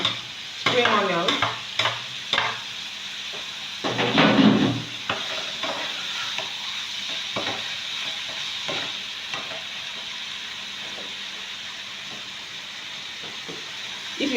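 Spring onion hits a hot pan and is stir-fried for noodles, with loud bursts of sizzle and clattering spatula strokes early on, settling into a continuous close frying hiss.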